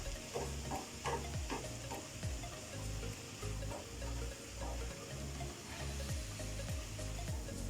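Tomato being stirred in a hot pan while cooking egg avial, with steady sizzling under repeated scraping strokes of a spoon, close and continuous with no talking.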